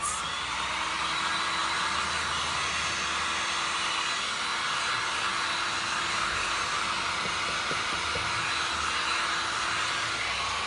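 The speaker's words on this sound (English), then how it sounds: "I'm gonna hit this with a dryer" A hair dryer blows continuously at close range over glass and resin artwork, a loud steady rushing whir that holds unchanged from start to finish.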